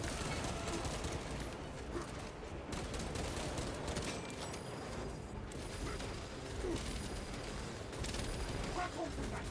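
Sustained heavy gunfire and explosive bursts in the video game Warhammer 40,000: Space Marine 2, loud and continuous throughout, with game voices heard over the barrage.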